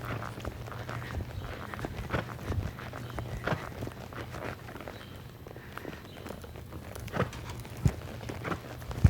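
Hoofbeats of a horse trotting in an arena, a steady rhythmic clip-clop of footfalls at moderate distance over a constant low hum, with occasional sharper thuds.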